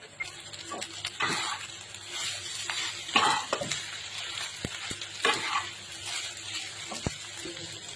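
Chicken fried rice cooks in a pan with a steady close sizzle. Repeated sharp scrapes and clanks of a spatula against the metal punctuate it, and no one speaks.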